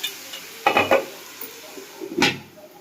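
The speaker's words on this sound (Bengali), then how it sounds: "চিকেনটা ঢেলে দেবো।" Chicken pieces tip into a hot pan, with two short bursts of clattering and sizzling against a quieter low background, plus a light metal clink.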